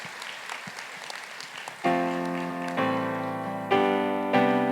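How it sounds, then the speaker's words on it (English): Audience at a community college commencement ceremony claps steadily for under two seconds before music with sustained tones enters and takes over at a louder level. "let's give them an applause"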